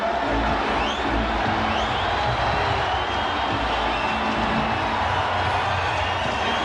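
Basketball arena crowd at a Houston Rockets vs Los Angeles Lakers 2004 playoff game, a loud continuous roar of cheering and shouting voices that fills the space steadily with no letup.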